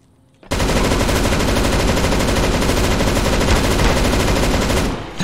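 Dense, continuous automatic gunfire from the CS:GO video game starts abruptly after a brief quiet moment and roars loud and unbroken for about five seconds before easing at the very end.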